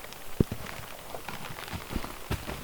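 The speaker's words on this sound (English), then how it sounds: "Oh, all the rain's starting." Rain begins to fall on a hot tent with a dog inside, scattered close taps and light patters striking the fabric over a soft continuous hiss, with a few louder drops.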